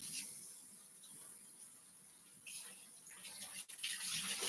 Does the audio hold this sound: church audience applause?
no